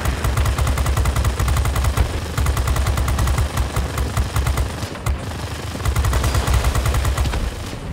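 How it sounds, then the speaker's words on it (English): Rapid sustained machine gun fire from a Kawasaki tier 4 fighter aircraft in World of Warplanes, loud close bursts of dense rhythmic shots with a brief pause midway, over a steady engine drone. "Hope the machine guns will be enough to do the work."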